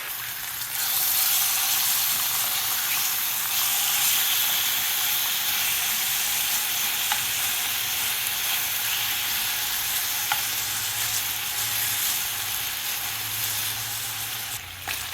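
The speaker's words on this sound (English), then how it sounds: "I do prefer these when I am cooking bacon on the skillet." Bacon sizzling in a skillet, a loud, steady frying hiss with crackling spits, close up and continuous for the whole stretch with no talking.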